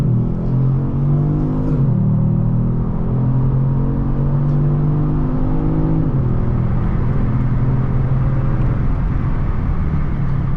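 A 2021 Kia Stinger GT1 AWD launches hard from a standstill on a full-throttle sprint. The engine drones loud and close inside the cabin and rises in pitch through each gear, with a couple of shift dips along the way.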